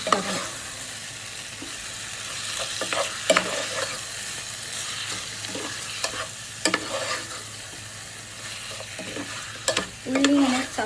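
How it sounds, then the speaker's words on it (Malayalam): Onions for a chicken curry are stirred and fried in a pan, with a steady soft sizzle underneath and repeated scraping knocks of the spoon at irregular moments, close by and with no one talking. "അങ്ങനെ എല്ലാം കൂടി മിക്സ് ആക്കാം."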